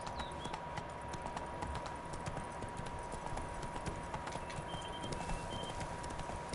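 Horse hooves clip-clop steadily as a horse is ridden in The Witcher 3: Blood and Wine, a brisk even rhythm that runs throughout over faint ambient birdsong.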